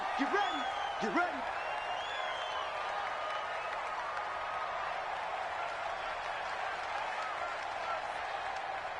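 Stadium crowd in a PS4 football video game applauding and cheering, a dense, steady wash of clapping and murmur with a few whistles, heard at a distance and continuing without pause.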